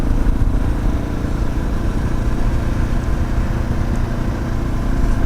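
A 2017 Husqvarna 701 motorcycle engine runs steadily at low speed on gravel, a close, continuous mid-pitched rumble with no speech.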